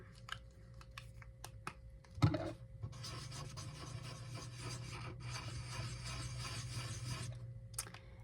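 A marker scratches steadily across paper as someone colors, a dry rubbing rasp that runs continuously for several seconds after a few brief taps and a single knock.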